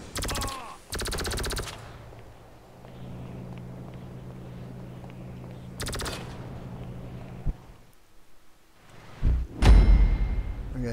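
Micro SMG fire in GTA V Online survival mode: several loud rapid bursts of automatic gunfire separated by a low engine-like drone, ending in a heavy impact and a louder burst, with no talking.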